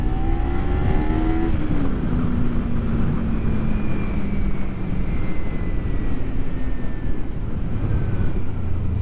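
A motorcycle engine revs repeatedly to push old gasoline through the fuel system, its pitch rising and falling through a steady, loud mechanical drone during a ride in town, with no voices.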